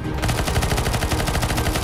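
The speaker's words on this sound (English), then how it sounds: "Shoot the small flies" Rapid automatic gunfire in a CS:GO zombie escape map, a loud, steady rattle of closely spaced shots lasting about two seconds with no talk.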